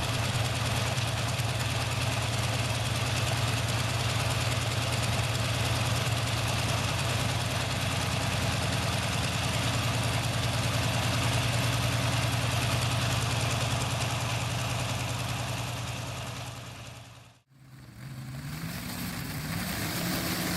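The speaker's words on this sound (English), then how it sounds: "The Jacobs R755-9, a 7-cylinder air-cooled radial engine built in 1943" A 1943 Jacobs R755-9 seven-cylinder air-cooled radial aircraft engine runs at a steady idle, a loud even throbbing drone that breaks off abruptly near the end before a quieter resumption.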